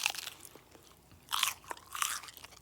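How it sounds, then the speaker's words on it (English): Crunchy golden coconut banana bites are bitten into, giving two loud, crisp crunches about half a second apart, with faint chewing sounds in between and no talking. "check out that crunch."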